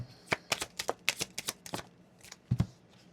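Tarot cards being shuffled give a quick run of crisp, close riffling snaps, about a dozen irregular flicks, then a pause and a couple of softer thumps at the end.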